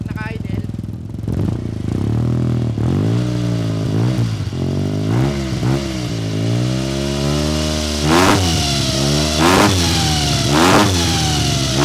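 Yamaha TMAX 560 scooter (2023) with an aftermarket Akrapovic exhaust, revving loudly and close up in repeated throttle blips, the pitch swelling and dropping between idle stretches; a voice briefly speaks over it.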